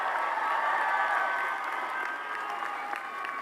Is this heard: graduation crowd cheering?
yes